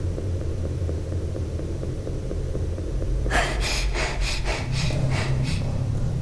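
Heavy breathing from a character in the horror RPG game Cat In The Box, a low steady rush under game ambience, joined midway by a series of rhythmic raspy breaths repeating about every half second.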